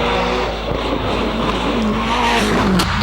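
Douglas Johnson's Subaru WRX rally car races up a hillclimb, its engine roaring loud and close with rising revs and some tire squeal, no voices over it.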